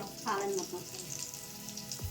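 Sarvapindi, a Telangana rice flatbread, frying in a pan with a soft, steady sizzle and crackle that runs throughout, close and moderately quiet, with a brief louder spot near the start.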